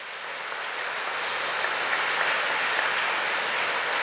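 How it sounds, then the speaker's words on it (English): Crowd applauding Pope Francis after Mass in Rakovsky, Bulgaria: dense, continuous clapping like a wash of rain, fairly faint and distant, swelling slightly and then holding steady. "There is a big applause for him."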